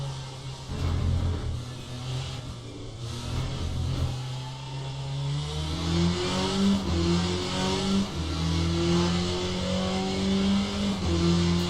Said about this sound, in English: Oh, and this Corvette sounds so amazing.